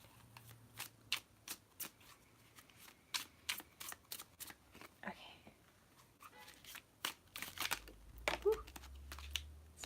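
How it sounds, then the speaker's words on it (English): Tarot cards get drawn and shuffled from a deck, with quick, close papery flicks and snaps in irregular bursts and some crinkling between them, quiet throughout. "I'm gonna pull one more card."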